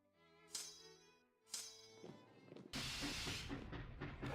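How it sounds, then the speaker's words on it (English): Sound effect of a railroad being built in a strategy video game, a couple of sharp hissing bursts of compressed air followed by a sustained loud steamy rush, with no talking over it. "that's the sound of a railroad being built"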